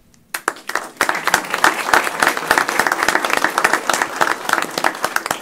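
A room full of people claps steadily and loudly for poll workers at a county commissioners court meeting, a dense sustained round of applause that starts abruptly after a moment of quiet.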